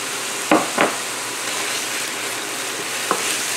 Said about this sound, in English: add 1 tablespoon of minced garlic. We're just going to cook this down for 1 minute